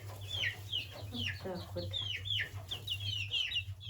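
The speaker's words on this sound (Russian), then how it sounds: "Эти два петушка, две курочки." Two roosters and two hens cluck and call close by in cold weather, with a steady low hum underneath and a brief spoken remark.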